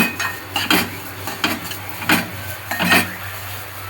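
Food is roasted in ghee in a pan and stirred, giving repeated scraping and clinking strokes of a utensil against metal at an uneven rhythm, with a soft background sizzle; no talking.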